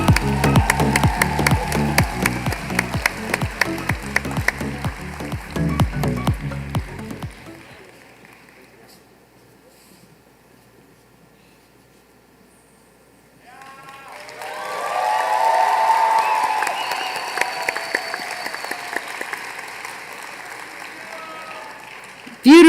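An awards ceremony audience applauds with loud rhythmic clapping that fades out, then after a quiet stretch a second burst of clapping and cheering swells and trails off.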